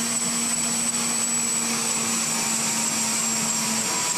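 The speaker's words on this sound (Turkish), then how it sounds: "Helikopterin havadayken seyir anı bir vatandaşın cep telefonu kamerasına böyle yansıdı." A helicopter in flight, recorded on a mobile phone, gives a continuous loud whining engine and rotor drone with a steady tone throughout, no voices.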